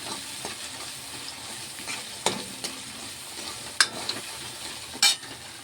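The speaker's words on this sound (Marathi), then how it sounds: "आता हे सगळं मिक्स करून घेतलं मी" A mixture frying in a pan while it is stirred, a steady low sizzle broken by a few sharp scrapes and clinks of the spoon against the pan.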